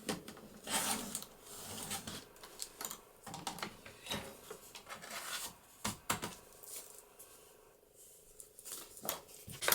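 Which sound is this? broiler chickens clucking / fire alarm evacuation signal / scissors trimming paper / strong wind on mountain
scissors trimming paper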